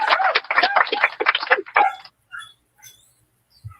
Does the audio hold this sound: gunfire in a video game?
no